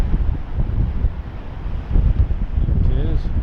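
Heavy wind at Fort Stevens buffets the microphone with a constant low rumble and roar, while a voice murmurs faintly underneath.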